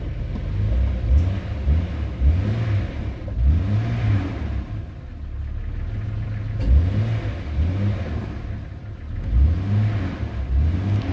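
A Jeep Cherokee XJ with the 4.0 engine idles roughly with the air conditioning on, its steady engine drone rising and falling in slow, irregular surges heard up close.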